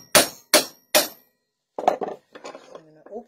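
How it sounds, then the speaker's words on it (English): Three sharp metallic hammer blows on a metal punch while making knife handles land in a steady rhythm, close and loud, followed by a pause and then a person speaking. "so we're going to hammer it."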